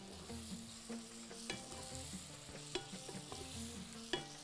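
Ingredients with black lemon sautéed in a pan for a seafood dish, a spatula stirring and scraping in quick repeated strokes over a steady close sizzle, with no voices.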